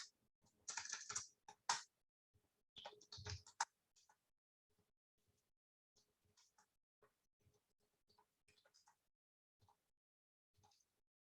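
Keys clatter on a computer keyboard while HTML code is entered line by line, starting with a loud burst of rapid keystrokes and Enter presses, then thinning to sparse, soft taps.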